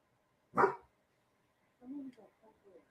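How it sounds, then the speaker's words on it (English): A single loud dog bark rings out near the start, after a doorbell, followed by a person speaking quietly afterward. "Let's hear a dog bark."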